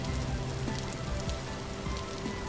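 Rainfall in the Vintage Story video game, a steady, even patter of drops hissing softly on surfaces throughout, quiet and unbroken, with no talk.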